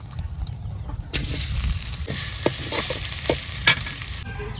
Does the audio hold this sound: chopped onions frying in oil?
yes